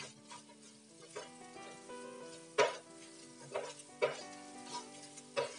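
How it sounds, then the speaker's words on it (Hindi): Ground spices such as coriander, cumin, turmeric and red chilli powder sizzle as they fry in a pan, with a steady hiss broken by several sharp scraping stirs of a spoon against the metal. "अब देंगे हम मसाले, धनिया पाउडर, जीरा पाउडर, हल्दी, लाल मिर्च पाउडर, कश्मीरी और तीखी वाली दोनों भी चला ले।"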